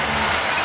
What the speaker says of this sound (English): So, crowd getting a little bit loud.